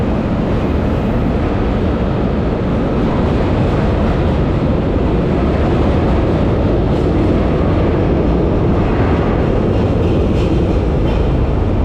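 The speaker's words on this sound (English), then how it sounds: "So that's the train right there coming." A train pulls into a central station in Rio de Janeiro, a loud, steady rumble of wheels and carriages filling the platform for the whole stretch, with no voices.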